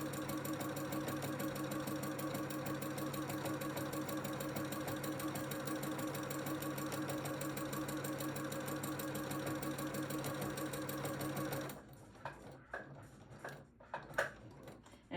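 Sewing machine quilting a bandana quilt-as-you-go block, a steady fast mechanical stitching chatter running continuously before stopping, followed by a few scattered clicks and handling sounds.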